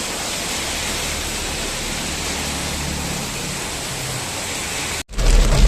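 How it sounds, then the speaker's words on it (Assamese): Heavy rain pours steadily outside, a dense continuous hiss that holds for several seconds before a brief cut, after which the downpour returns louder and closer with a deeper rumble. "বাম্পাৰ বৰষুণ বাহিৰত নন ষ্টপ দি আছে।"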